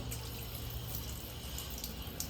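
Dirty soaking water is poured off soaked ragi (finger millet), a steady close trickle and slosh of running water throughout the short moment, with no voices.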